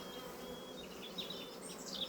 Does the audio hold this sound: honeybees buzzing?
yes